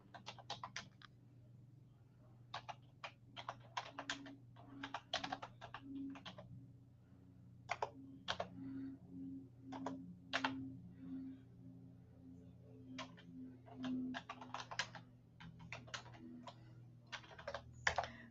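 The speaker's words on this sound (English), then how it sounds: "I got to type it in here." Keys clatter on a computer keyboard in quick irregular clusters with pauses, close and fairly quiet, over a steady low electrical hum.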